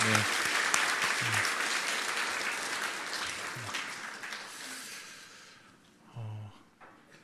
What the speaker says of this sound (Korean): 우리 함께 큰 박수로 응원해주시기 부탁드립니다.